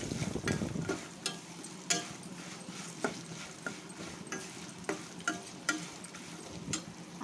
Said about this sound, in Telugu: అంతా కొంచెం ఫ్రై అవ్వాలండి